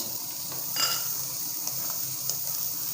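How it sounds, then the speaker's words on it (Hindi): Chicken with capsicum and cabbage fries in a pan, giving a steady soft sizzle with occasional stirring scrapes and light utensil clicks, close and continuous without speech. "हल्का सा हमने इसको फ्राई करना है इन सब्जियों को।"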